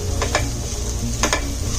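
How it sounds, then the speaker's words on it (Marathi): Masala and tomatoes being roasted and stirred in a pan for an exotic vegetable makhani gravy, a steady sizzle punctuated by two pairs of quick spatula scrapes. "मसाला चांगला भाजून घ्यायचा आहे"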